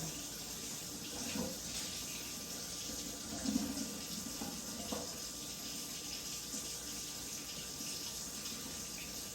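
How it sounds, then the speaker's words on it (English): A kitchen tap runs steadily for the whole stretch, a continuous close splashing stream with small bumps and clinks as it flows. "I am one of those people who can listen to running water and it not bother me at all."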